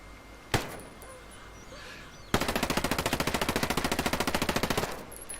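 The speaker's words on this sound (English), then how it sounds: "The MPX sounds a little meatier than the MP5." In Ghost Recon Breakpoint, an unsuppressed MPX submachine gun fires a single sharp shot, then after a pause rips through a rapid full-auto burst of evenly spaced, loud reports lasting about two and a half seconds.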